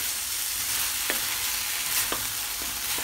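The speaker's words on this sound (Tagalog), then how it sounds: "medyo nag-brown na po ang pork natin" Pork with ginger fries in a pan as a steady, close sizzle that fills the whole clip, broken by a few soft stirring scrapes, with no talking.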